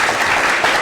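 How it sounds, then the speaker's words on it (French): Studio audience on a television program clapping for an honoree, a brief steady wash of loud applause with no pause. "On va l'applaudir encore plus fort,"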